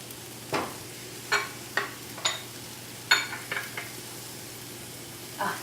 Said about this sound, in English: So we're just going to let those saute for just a little bit